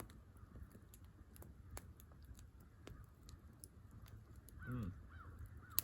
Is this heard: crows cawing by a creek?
yes